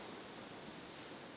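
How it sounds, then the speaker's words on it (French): Storm wind around an abandoned manor, a steady, faint broadband roar with no gusts standing out and no talking. "on est en pleine tempête, donc forcément, il y a du vent"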